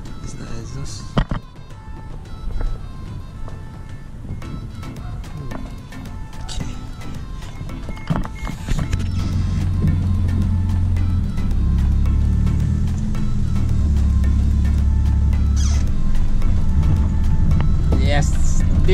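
Toyota Starlet EP71 turbo three-door with an engine from the EP82 idles, then the exhaust rumble swells to a louder, steady drone, with people talking near the car.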